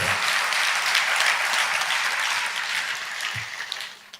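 A church congregation claps together during a Telugu Christian sermon, a dense, loud burst of applause that holds steady and then fades out toward the end.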